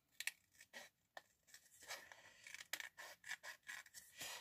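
Scissors cut paper for a scrapbook envelope mini album, a faint, close series of short snipping and scraping strokes in an uneven rhythm.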